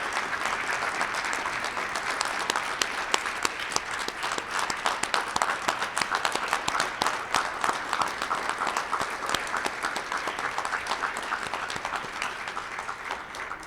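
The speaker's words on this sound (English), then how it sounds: "Let's give him a round of applause." A room full of people at a Rotary club meeting clapping together, steady dense applause that is loud and sustained throughout with no talk over it.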